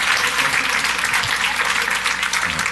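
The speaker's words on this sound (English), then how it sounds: "Big round of applause." A keynote audience applauds loudly, a dense close-sounding wash of clapping that holds steady for a couple of seconds.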